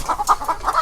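Crested native hen clucking up close, a quick run of short, loud, evenly spaced clucks.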